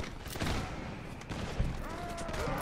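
A ragged volley of musket fire from a line of musketeers in a Napoleonic-era battle game set in Russia, several loud cracks overlapping across a couple of seconds with a voice briefly audible.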